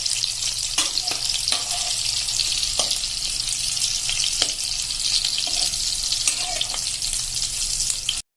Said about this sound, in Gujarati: તો આ રીતે જો આપણે એકદમ સરસ સેલો ફ્રાય કરી લેવાના છે બે સાઈડ